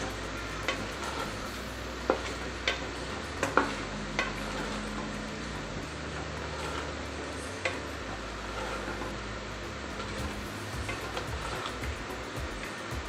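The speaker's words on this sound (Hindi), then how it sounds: "इसके अंदर अब आलू डालने के बाद हम इसको अच्छे तरीके से मिक्स करेंगे।" Potatoes being stirred into keema frying in a pan give a quiet, continuous sizzle broken by scattered scrapes and clicks of the spoon against the metal.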